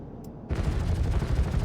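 A ship-mounted cannon in a space-ship video game opens up after a half-second of near quiet, bursting into a rapid, continuous stream of heavy firing that stays loud and close to the end.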